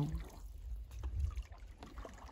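A canoe paddled on a quiet lake, with low, close water swishes and soft thuds against the hull, a faint trickle and light wind around it.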